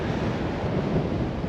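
Strong wind gusting over Black Butte Lake, a steady dense roar buffeting the microphone for the whole stretch, with no voices over it.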